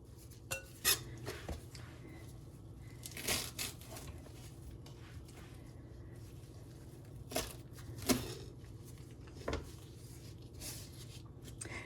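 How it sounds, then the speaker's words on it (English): A knife chops fresh cilantro on a cutting board in a home kitchen, with scattered sharp taps and scraping clatter among quieter stretches, close by and with no talk. "let's cut the cilantro small"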